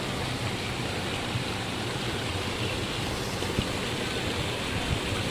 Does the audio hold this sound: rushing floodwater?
yes